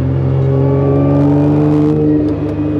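Heavily tuned 1500 hp Nissan GT-R R35 accelerating hard on a bend, with a loud, continuous engine roar carrying steady harmonics and a few sharp exhaust crackles breaking through near the end.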